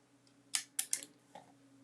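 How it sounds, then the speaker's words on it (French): Scissors snipping paper while a pop-up card is being made, three quick crisp cuts close together and one softer snip after, close and quiet over faint background hum. "je peux terminer avec les ciseaux"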